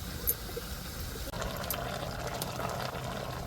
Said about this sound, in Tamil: நம்ம புளியை ஊற்றிக்கிடுவோம்